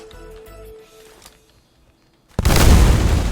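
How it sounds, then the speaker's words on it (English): A grenade goes off in a tactical shooter game: after quiet game ambience, a sudden loud, close explosion with a deep, rumbling boom sustained to the end. "let's throw a grenade"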